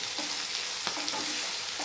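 Chopped chilli, onion, tomato and carrot frying in a pan while being stirred, a dense continuous sizzle close up with a few faint spatula taps.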